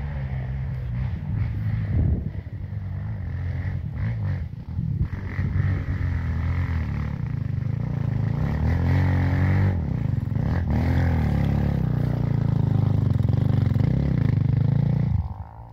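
A dirt trail motorcycle's engine works up a steep hill of loose soil during a 2023 off-road trail ride in Águas Claras, Piaçu, Espírito Santo, rising and falling revs close by, with clatter from the terrain, cutting off at the end.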